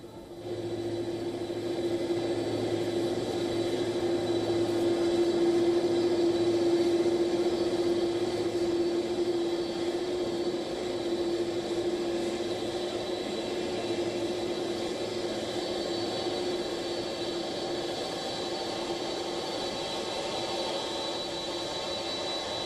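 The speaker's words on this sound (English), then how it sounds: "this is the Air Force One on board which Donald Trump has reached Ben Gurion Airport" Air Force One at Ben Gurion Airport, a steady jet engine whine and roar with a sustained tonal hum, holding at an even level throughout with no voices.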